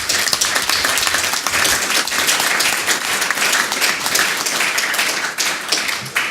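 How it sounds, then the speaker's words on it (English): An audience at a boxing press conference for Anthony Crolla and Ricky Burns gives a loud, sustained round of applause, dense clapping rolling on without pause from start to finish. "So I'd like everyone to give Anthony and Ricky Burns a huge round of applause."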